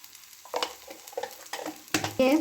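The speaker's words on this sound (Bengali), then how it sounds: "ভালো করে ভেজে নেব" Soft sizzling of chillies frying in a pan with a few scraping, clattering stirs of a utensil, close and fairly quiet.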